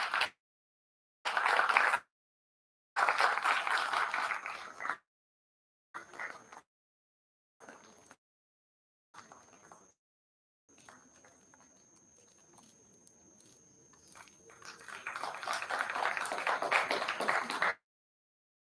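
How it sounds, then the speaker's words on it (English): Audience applause at a Google Developers DevFest, broken into separate bursts of clapping with gaps of silence between them, then a quiet lull before a longer swell of clapping near the end. No talking. "A big round of applause,"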